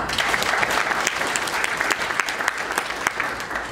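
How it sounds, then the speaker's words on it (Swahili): Applause for Alphonce Simbu, the 2025 marathon world champion crowned in Tokyo, fills the room as a dense, steady ovation of many clapping hands. The crowd keeps it up evenly throughout, with no speech on top of the clapping. "je, makofi mengi"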